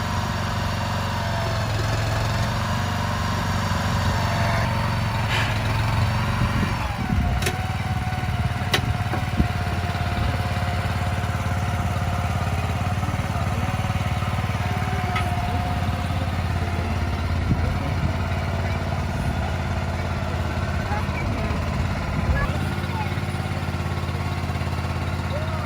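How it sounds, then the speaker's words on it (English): A vehicle engine drones steadily and revs during a burnout while a shed is being moved, a continuous mid-distance roar lasting throughout with a few sharper bursts. "Oh yeah. Doing a burnout."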